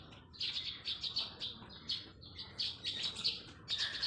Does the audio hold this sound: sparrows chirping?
yes